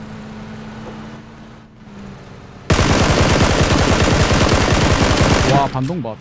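Rapid automatic gunfire with heavy recoil in the PUBG battle royale game, a loud dense burst lasting about three seconds after a quieter stretch of ambient game noise, cutting off abruptly near the end.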